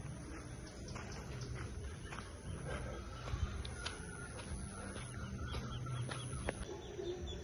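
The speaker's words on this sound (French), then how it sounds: "il y a des beaux coqs" Roosters and chickens cluck and call in the distance over a quiet outdoor village background near Lake Sebu, with a steady high insect-like whine and scattered faint knocks.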